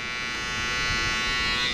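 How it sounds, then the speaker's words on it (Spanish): An electric shaver runs with a steady high-pitched buzzing hum, close and constant for the whole stretch, alone without talk. "para los que se preguntan cómo está trabajando la afeitadora"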